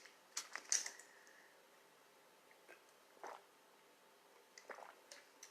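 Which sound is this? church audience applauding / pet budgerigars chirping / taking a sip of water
taking a sip of water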